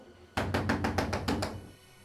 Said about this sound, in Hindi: ललिता, ललिता दरवाजा खोलो।